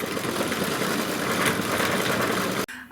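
A home embroidery machine stitching flower leaves in green thread, a steady dense mechanical whir and rapid needle chatter that runs without pause, then cuts off abruptly near the end.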